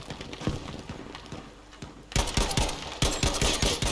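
Rapid bursts of gunfire in the Battlefield V video game, a steady crackle of rattling shots that grows louder and denser partway through, with sharp repeated reports close by.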